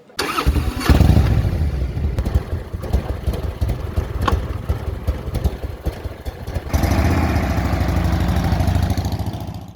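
A motorcycle engine on a Dolomites tour near Bressanone, Italy, cranks with rapid chugging pulses, catches and settles into a loud, steady idle close by.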